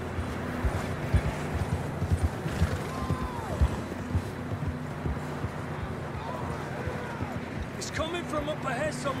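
Horse hooves clip-clop in a steady, fairly quiet rhythm during a ride in Red Dead Redemption 2, mixed with ambient outdoor noise, while voices talk over the riding.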